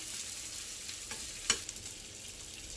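Steak basting in a hot pan with butter and garlic, a continuous sizzle with a few sharp spoon clinks and crackles standing out midway.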